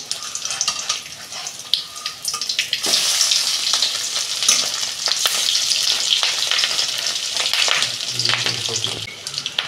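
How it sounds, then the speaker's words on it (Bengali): Fish roe fritters sizzle steadily in hot oil while they are flipped. The frying crackle swells louder partway through, with scraping and clinking from a utensil up close. "দেখুন বন্ধুরা, আমি বড়াগুলো উল্টে দিচ্ছি।"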